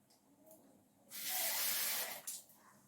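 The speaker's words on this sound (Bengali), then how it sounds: "আর একটু জল দেবো" Water added to a hot cooking pot, a sudden loud hissing sizzle lasting about a second, close by, then quickly dying back to quiet kitchen sounds.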